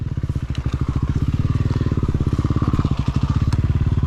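A motorcycle rumbles steadily nearby with a fast, even exhaust pulse, loud and continuous, as the bike is ridden at a motocross track at Männiku.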